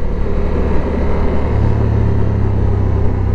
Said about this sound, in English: I'm not sure if the camera is picking up the noise of the engine